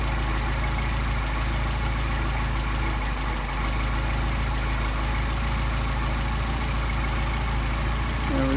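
Solex carburetor engine idling steadily after a carburetor adjustment, a continuous even low rumble held alone at close range throughout.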